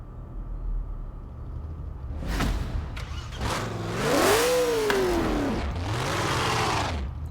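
A 1964 Ford GT40 Mk 1 engine in the Forza Horizon 4 racing game revs hard in repeated bursts, its pitch swooping up and down through several loud, sustained pulls.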